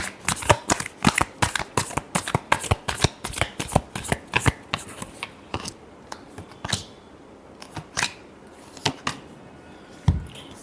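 Tarot cards are shuffled by hand in quick, crisp riffling bursts that come rapidly at first and then more sparsely, close and clear with no talking.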